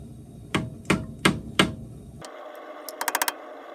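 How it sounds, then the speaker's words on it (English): A hammer drives a flathead screwdriver to pry out the front hub dust cap on a 1994-2004 Ford Mustang, giving four evenly spaced metallic strikes, then a scrape and a quick run of lighter taps. "So you take a flathead screwdriver and a hammer."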